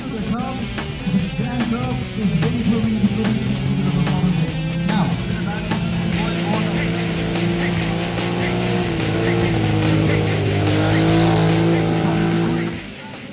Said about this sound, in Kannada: ಟ್ರ್ಯಾಕ್ ಇಳಿದ ಕಾರುಗಳು ಟ್ರ್ಯಾಕ್ನಲ್ಲಿ ಧೂಳೆಬ್ಬಿಸಿದ್ವು